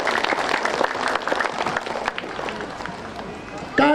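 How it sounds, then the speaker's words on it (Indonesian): Applause from a community gathering audience in Kelurahan Benteng, Sidrap, a steady crackle of many hands clapping throughout, with a voice starting to speak at the very end. "Tepuk tangan dulu."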